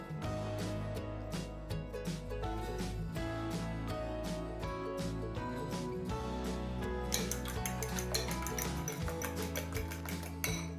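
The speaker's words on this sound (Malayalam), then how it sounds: "2 മുട്ട നന്നായിട്ട് അടിച്ചെടുക്കുക, അല്ലെങ്കിൽ 3 മുട്ട അടിച്ചെടുക്കുക" Eggs beaten in a bowl for a Brazilian coxinha, giving quick runs of clinking, tapping strikes with a faint ringing, close by and steady, getting busier toward the end with no talking.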